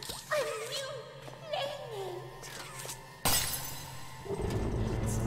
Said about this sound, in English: That glass break sound effect, that wasn't me adding it in, that's just what the game sounds like in this version.